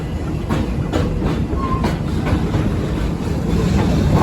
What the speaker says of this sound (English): Our train is now passing through the Congo Jungala section of our park